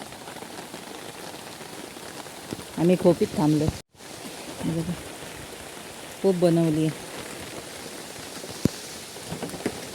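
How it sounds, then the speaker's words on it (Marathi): Dense, steady patter of heavy rain fills the background throughout, while people talk intermittently over it. "जोरात पाऊस आला"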